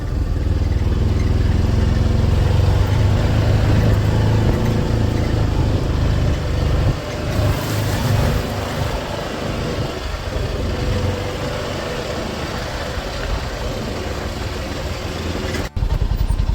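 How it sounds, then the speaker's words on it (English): A side-by-side UTV engine runs steadily and loudly close by outdoors in a valley during a hunting trip, a continuous rough motor drone with slight shifts in pitch and a brief dip near the end. "Sorry about the noise from the side-by-side."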